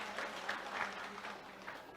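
An audience at a school graduation ceremony at SMK N 1 Jogonalan claps, a soft, distant patter of applause that stays steady for a couple of seconds.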